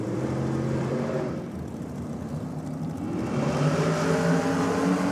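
Two drag race cars, a Holden Torana and a Holden Calibra, sit on the line at a straight-line paint-and-panel event, their engines droning and building to a louder, rising roar toward the end.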